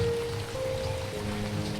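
Rain falls in a forest village, a steady hiss of drops on surfaces filling the whole moment, with a faint low hum running underneath.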